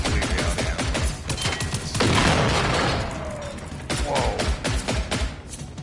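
Gunfire in the video game Generation Zero, a rapid burst of shots and heavy booms with mechanical clatter, loud and close, ending in a few separate cracks.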